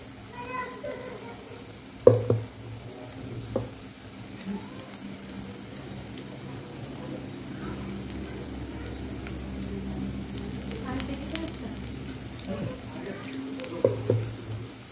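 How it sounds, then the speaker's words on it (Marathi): Corn pakoda fritters fry in hot oil in a kadhai with a continuous close sizzle and bubbling, broken by a few louder pops and clinks near the start and end. "जेवढी कढईमध्ये बसतील तेवढी भजी टाकून घ्यायची तळण्यासाठी"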